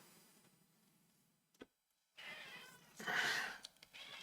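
A house cat meows and yells for food, one brief call followed by a longer, louder, whining meow, close by indoors with no talking.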